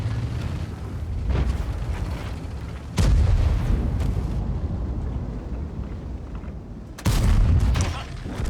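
Tank gun fire in World of Tanks, two heavy booming shots several seconds apart, each a sharp loud blast trailing into rumbling engine noise, with a voice talking between them.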